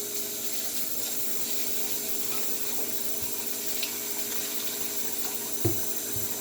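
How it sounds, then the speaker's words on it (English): Tap water runs steadily into a sink while rice is rinsed to wash out its starch, a continuous moderate splashing with a few small clinks and knocks near the end. "I wash my rice to get all the starch out of it."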